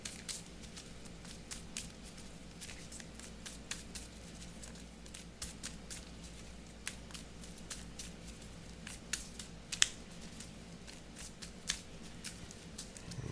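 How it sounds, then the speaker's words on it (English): Soft, rapid riffling and crisp ticking of playing cards being shuffled, repeated in brief bursts over a quiet background hum. "So we'll shuffle these up real quick."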